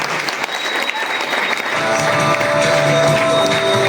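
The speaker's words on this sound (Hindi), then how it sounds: "जोरदार तालियां" Loud, sustained applause from a large crowd at a talk by an army officer, dense clapping that swells and continues steadily throughout with a tonal hum underneath.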